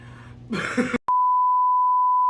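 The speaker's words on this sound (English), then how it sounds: "Long beep" A brief throaty grunt from a voice, then a loud, steady, pure-tone censor bleep that holds flat for over a second.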